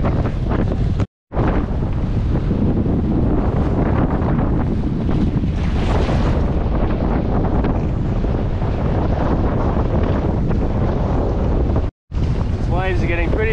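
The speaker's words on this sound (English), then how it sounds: "Waves are getting pretty big now." Large sea waves and strong wind buffet a small racing sailboat on a Mini Transat race off Hong Kong, a loud continuous rush of wind noise and surging water, with brief dropouts and a voice near the end.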